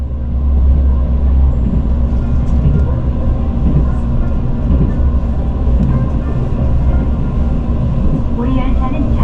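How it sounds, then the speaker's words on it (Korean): A Mugunghwa passenger train crosses the Sincheon rail bridge on the Gyeongbu Line, heard from inside as a loud, steady low rumble and rolling drone throughout. "잠시 후 신천철교를 건넌 열차는 경부선 대구역에 도착합니다."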